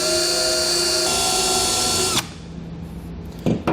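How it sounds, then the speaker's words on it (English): A power drill whines steadily for about two seconds, marking holes through a cardboard template in a Ram truck bed for a fifth wheel hitch, then stops abruptly, leaving quiet room noise with a couple of faint knocks. "I'm just going to use my drill bit just to make a mark in these 4 locations"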